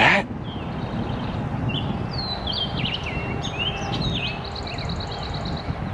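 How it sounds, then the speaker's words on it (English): Birds chirping along a farmland bike trail in Ohio, with thin scattered calls sounding over a steady low rush of wind and riding noise. "You hear the birds?"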